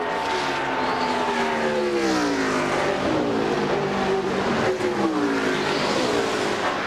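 NASCAR race cars on the final lap of the 2001 Brickyard 400, engines droning loud and continuous with pitch sweeping up and down as cars pass.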